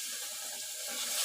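Vinegar poured into coriander pickle, a steady close splashing liquid stream with no talk.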